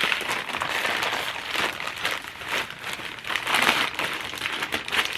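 Crinkly plastic packaging around books is torn and opened by hand, a close, continuous rustling and crackling that swells and fades in bursts.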